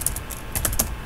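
A computer keyboard is typed on while coding in Laravel. Close, crisp key clicks come in a quick uneven burst, with no voice over them.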